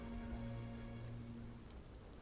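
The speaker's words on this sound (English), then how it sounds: "does it like rain like this every day?" Rain falls steadily in a soft, even hiss that stays quiet and continuous, with no voices over it.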